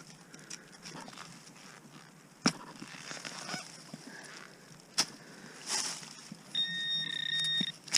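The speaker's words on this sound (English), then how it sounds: "The little beeper thing says I'm close." A metal detector gives steady electronic beep tones near the end, with a brief second tone, over faint rustling and footsteps in the woods.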